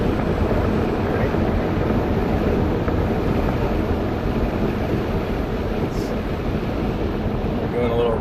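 A 2017 Ford Mustang with a V6 engine drives along, giving a steady low rumble mixed with road and wind noise inside the car, constant throughout with no sharp revving.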